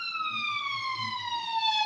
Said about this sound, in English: Ambulance or something.